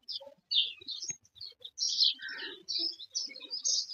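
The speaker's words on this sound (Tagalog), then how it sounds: "Yung ibon na Maya." House sparrows chirp and tweet in quick, uneven bursts near a tree of ripening papayas, several birds calling close by with brief gaps between their calls.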